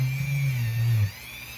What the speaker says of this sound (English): I use these Dremel tools. This is a little stainless wheel.